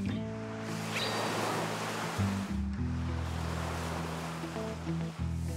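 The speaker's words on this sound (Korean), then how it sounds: "와, 파도가 좀 있다?" Sea waves washing in at the shore, a steady broadband rush of surf heard fairly close, with a low engine-like hum running underneath throughout.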